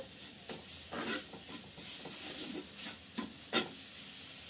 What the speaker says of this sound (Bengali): এখানে এখন খেজুরের গুড়টা দিয়ে আমি একটা ক্ষীর তৈরি করে